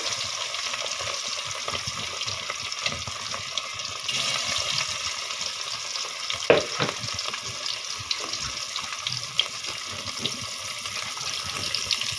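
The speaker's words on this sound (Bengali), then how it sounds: "এই তো মাছগুলি ভাজা হয়ে গেছে" Several surma fish frying together in a large pan give off a steady, close sizzling hiss that runs without a break. A single utensil clink sounds partway through.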